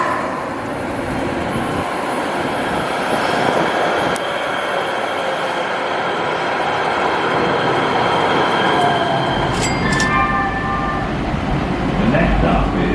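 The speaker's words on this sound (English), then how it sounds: "And here comes our train." A Los Angeles Metro train rumbles and hisses steadily as it pulls into the station, with brief high squeals and a chime near the end, over a busy station background.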